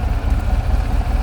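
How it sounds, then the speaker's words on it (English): A 1958 BMW Isetta 600 engine idling with its rear compartment open, a close, steady low-pitched rumble with an even pulsing throb and no voices. "Let's slip around to the back so you can hear this and see this engine compartment."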